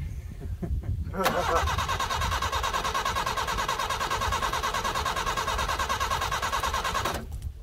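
The engine of a Subaru Brat cranks and fires, then settles into a loud, steady, slightly rough idle close by before cutting off near the end.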